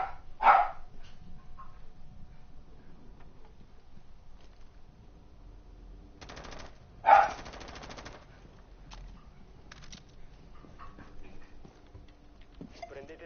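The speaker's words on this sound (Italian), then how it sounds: "Il mio cane che abbaia" A pet dog barks twice, one sharp close bark near the start and another louder one midway, breaking through gunfire and game noise from a Rainbow Six Siege match.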